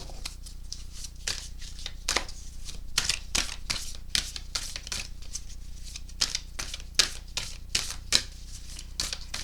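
Oracle cards are shuffled by hand in quick, crisp riffling bursts, close and steady, with no talking.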